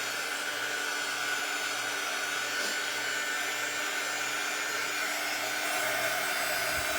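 A hair dryer blows steadily at close range, a continuous airy whoosh with a motor whine that holds nearly unchanged throughout.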